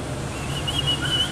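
A person whistles in imitation of birdsong, a thin high tone rising and wavering over roughly a second, moderately loud against a steady low room hum, with no speech.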